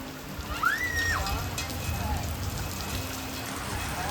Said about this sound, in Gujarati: જો વરસાદ જો એકવાર કેટલો ફૂલ ચાલુ થઈ ગયો છે